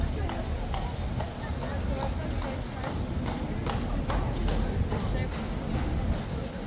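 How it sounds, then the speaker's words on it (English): Horse hooves clip-clopping in a steady repeated rhythm, moderately close, mixed with general background noise and murmured voices. "It's not worth it when the horse is this unhappy."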